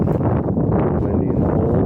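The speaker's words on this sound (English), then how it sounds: "Windy and cold." Wind blows across a 4,300-foot mountain top on Tray Mountain along the Appalachian Trail, a steady close rumble buffeting the microphone over a short stretch with no speech.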